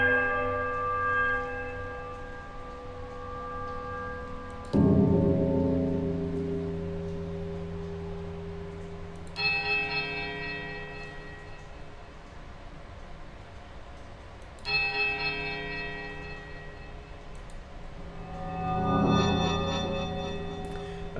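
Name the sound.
bells ringing in Pillars of Eternity video game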